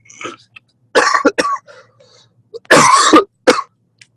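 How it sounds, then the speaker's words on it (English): Several harsh coughs and throat-clearing bursts from a person with a head cold, close and loud, coming in uneven clusters with short quiet gaps between them. "So excuse me if I'm coughing or sneezing."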